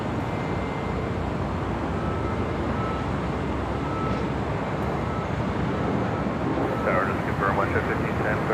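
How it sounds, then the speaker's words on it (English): NetJets Cessna 680A Citation Latitude business jet arriving at LAX, a steady broad engine roar throughout, moderately loud, with a faint voice near the end. "Next arrival is the NetJets coming in from Vegas, Cessna 680A Citation Latitude"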